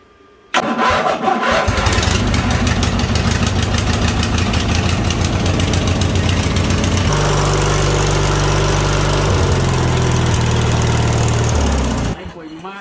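A Craftsman LT1000 lawn tractor with a 21 HP Briggs engine cranks and fires, then runs loud and close with a rough, steady chugging idle for about eleven seconds before cutting off.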